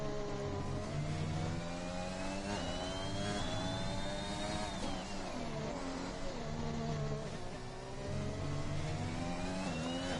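A race car on a flying lap at Brazil in a racing video game, its engine screaming continuously as it climbs through the gears and drops on downshifts, close and steady, with no voices.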